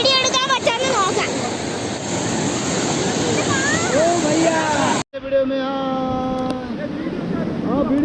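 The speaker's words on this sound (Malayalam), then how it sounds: "എനിക്ക് സത്യം പറഞ്ഞാൽ നല്ല പേടിയുണ്ട്, എന്താവും അറിയില്ല. അതുകൊണ്ടല്ലോ വെള്ളമൊക്കെ പുറത്ത് തെറിക്കുന്നുണ്ട്." Whitewater of the Beas river near Kullu rushes and splashes steadily around a raft, with voices talking over the water before a sudden cut to quieter surroundings.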